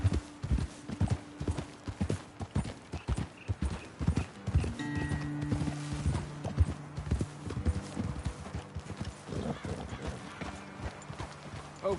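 Horse hooves from the video game Red Dead Redemption 2 clip-clop at a walking pace on hard ground, steady and close, with voices talking intermittently over them.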